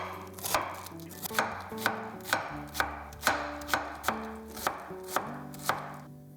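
A knife slices cabbage into thin pieces on a cutting board, striking in an even rhythm of about a dozen crisp, close chops with brief crunches between them and no voices.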